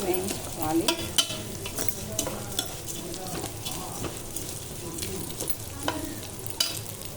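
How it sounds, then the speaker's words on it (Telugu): Vermicelli being stirred and roasted in a pan for upma, continuous close sizzle and rustling with frequent spatula scrapes against the pan, no talking. "సేమియా వేసి బాగా కలుపుకుందాం సేమియా బ్రౌన్ కలర్ వచ్చినంత వరకు"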